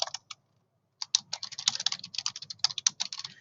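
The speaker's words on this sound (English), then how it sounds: "go ahead and just type your information here" Fingers typing on a computer keyboard, close and clear, a few taps then a pause followed by a fast irregular run of keystrokes, no voices.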